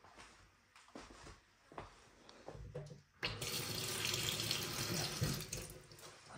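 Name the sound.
water running from a kitchen sink tap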